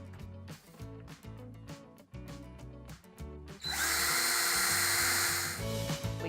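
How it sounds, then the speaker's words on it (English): Cordless drill with a 1/8 inch bit whirring in short repeated revving pulses, then biting into a drywall wall with a loud, steady, gritty grinding that runs close and continuous to the end. "I'll use a 1/8 inch drill bit."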